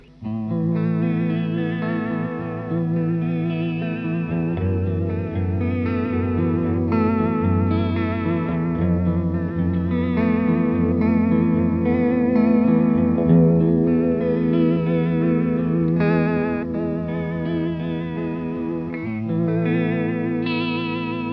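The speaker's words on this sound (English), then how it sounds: "it makes this really kind of like brittle, very retro, Game Boy kind of sound" Electric guitar runs through a heavy retro Game Boy-style effects pedal, giving a bright, brittle, chiptune-like tone with warbling chorus, playing a continuous melodic line without any talking.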